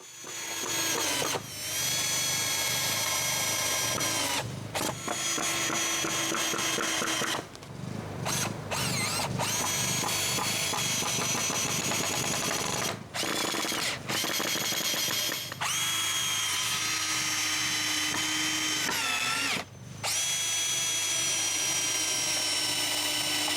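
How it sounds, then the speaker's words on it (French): Power drill driving screws to fasten 2x4 boards onto posts while building concrete forms for a cabin shelter, with repeated loud whirring bursts of varying length separated by short pauses, close and dominant. "il reste qu'à y visser les 2x4"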